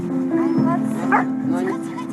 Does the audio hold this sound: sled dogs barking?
yes